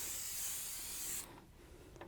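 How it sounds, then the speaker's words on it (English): Cooking spray hissing from an aerosol can onto a planter saucer mold for concrete casting, one steady close spray lasting about a second then stopping, followed by faint handling noises. "Using a cooking spray, you dust it up a little bit, not too much"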